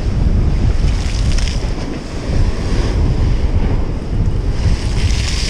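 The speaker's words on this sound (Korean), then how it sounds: "이 파도 장난 아니네." Waves crash on the shore at Yamido in Gunsan, Korea, driven by a strong gale during a surf-fishing trip; a loud, continuous roar of surf and wind surges with no talking.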